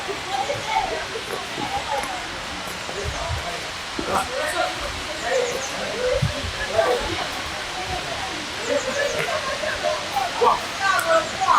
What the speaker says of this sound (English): looking up towards the waterfall.